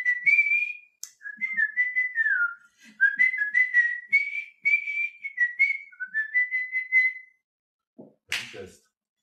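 A person whistles the melody of a song, a clear, close, steady tune in phrased bursts, ending in a short noisy sound.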